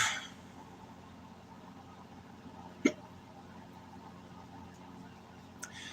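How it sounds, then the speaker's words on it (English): A person hiccups once, a sharp isolated burst partway through, with a fainter second catch near the end over quiet room tone. "hiccups and they won't fucking leave me alone."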